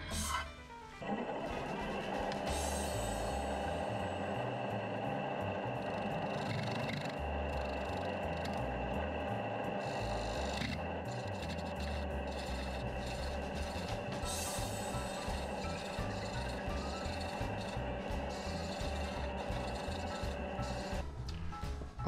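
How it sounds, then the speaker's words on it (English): Carbide scraper cutting the bottom of a wooden bowl on a lathe, giving a steady, continuous scraping and rubbing hum over the turning drone with slight shifts in pressure, close and moderately loud throughout, with no talking. "I'm going to get in here with this and just do the bottom with this carbide"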